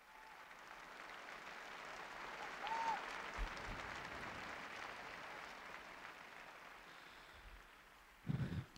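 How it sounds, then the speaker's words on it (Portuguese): Crowd applause for grandparents during the Pope's Sunday Angelus address, a faint distant wash of clapping spread across a large open square, steady throughout, with a brief louder burst near the end. "Convido-os a fazerem um aplauso, um grande aplauso aos nossos avós."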